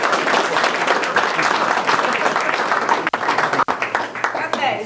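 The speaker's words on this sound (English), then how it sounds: "Clap, clap, clap, clap." Audience applause, dense clapping from a crowd that briefly cuts out twice near the end before resuming, with voices mixed in under it.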